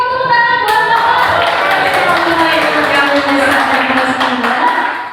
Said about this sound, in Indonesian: Oke, kita tepuk tangan buat